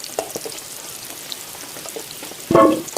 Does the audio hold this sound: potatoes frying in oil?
yes